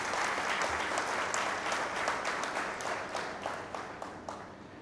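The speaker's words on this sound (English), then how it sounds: "So a big round of applause to the entire team and the union for this." An audience at a company Founder's Day address applauds for the team and the union, a steady wash of clapping from a large crowd that holds at an even level throughout with no talk over it.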